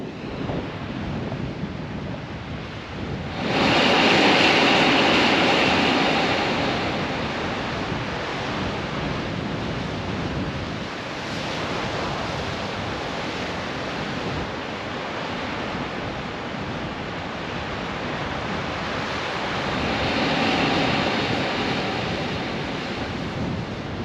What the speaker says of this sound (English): They apparently make that noise because it's a series of little blowholes